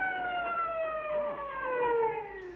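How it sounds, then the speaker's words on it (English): Wailing sirens sweep down in pitch, several overlapping tones, moderately distant and steady for the whole stretch. "I can still hear them sirens."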